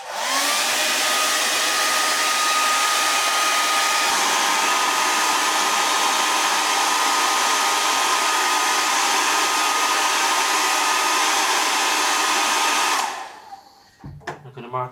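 A hair dryer blows steadily and loudly across an etched aquatint printing plate for about thirteen seconds, then cuts off abruptly, leaving faint room noise and small knocks.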